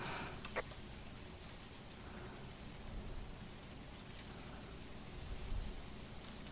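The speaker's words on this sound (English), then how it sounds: "It's raining." Steady rain in the video game Phasmophobia hisses in the background, a continuous soft wash with occasional faint drops and a low rumble near the end.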